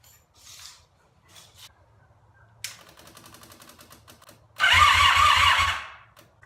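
An engine fed from a gas can tries to start, with faint clicks and a few cranking attempts followed by a loud, rhythmic mechanical churning burst that lasts a little over a second before fading.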